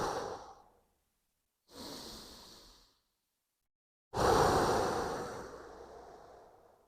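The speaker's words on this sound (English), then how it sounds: "And then you're clenching in and up into the belly, and then breathing out." A person doing a qigong exercise breathes deeply in three long airy breaths, each a slow exhale with gaps of silence between, the last the loudest and fullest, close and clear with no talking.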